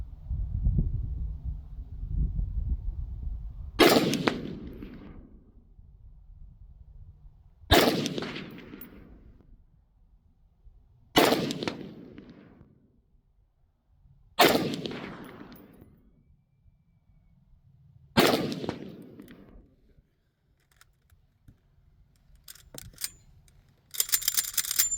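A Mini-14 rifle fires five shots at a 100-yard range, each a sharp, loud crack with a trailing echo, spaced about three to four seconds apart over quiet outdoor ambience.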